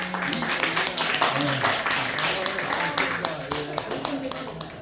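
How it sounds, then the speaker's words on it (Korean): A church congregation applauds during a sermon, steady clapping from many hands running the whole time while a voice speaks over it. "박수 한번 보내주시다"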